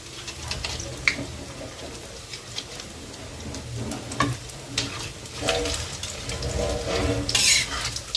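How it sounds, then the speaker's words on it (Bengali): Bottle gourd kofta balls sizzle in hot oil in a pan, a steady crackling fry broken by occasional clinks and scrapes of a spoon against the pan, with no talking. "এবার এক পিস করে গোল গোল সাইজ করে পিস করে ভাজার জন্য দিয়ে দিচ্ছি।"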